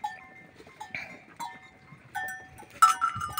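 A goat lying down while being washed with water bleats in several short, close, wavering calls separated by brief pauses.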